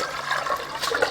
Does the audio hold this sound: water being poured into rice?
yes